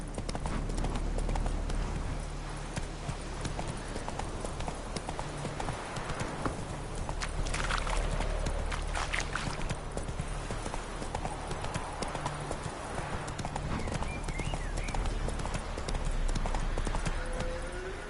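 Horse hooves clip-clop steadily on the ground in The Witcher 3, a continuous near rhythmic gait under game ambience, with an occasional faint whinny.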